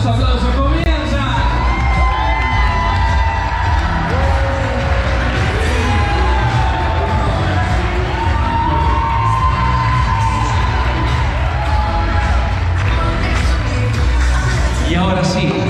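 Wedding guests clap, shout and whoop continuously at a lively reception, a loud dense crowd roar with whistles and cheers throughout, voices mixed in.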